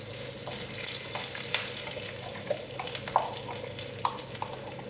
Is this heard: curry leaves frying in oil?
yes